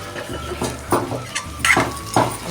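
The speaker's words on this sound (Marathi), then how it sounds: "आता आपण यात जी मसाला भरलेली भेंडी आहे ना ती आपण टाकूया." Stuffed masala okra tipped into a pan of browned fried onions, giving a few clinking pan and utensil knocks with light scraping, close and clear, no talking.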